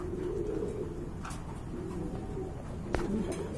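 Pigeons at a pigeon market in Bangladesh coo softly in a low, repeated throaty rhythm close by, with a few faint clicks and rustles around them.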